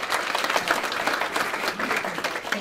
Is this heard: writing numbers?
no